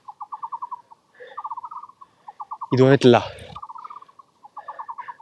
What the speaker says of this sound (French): Non, c'est les oiseaux.